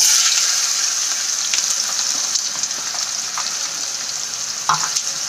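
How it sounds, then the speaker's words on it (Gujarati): Finely chopped onion sizzles loudly in hot oil with cumin and asafoetida, a steady close frying hiss with a brief stir-clatter near the end. "હિંગ એડ કર્યા બાદ આપણે એમાં એક ઝીણી કાપેલી ડુંગળી એડ કરી લઈશું"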